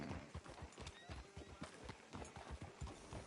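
Horse hooves clip-clop in Red Dead Redemption 2, a steady rapid rhythm of close, fairly quiet hoof strikes with an occasional whinny over game ambience.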